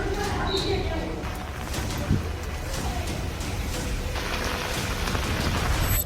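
Heavy monsoon rain falls steadily in Mumbai, a dense continuous hiss of drops on surfaces, with a faint thump partway through and some voices in the background.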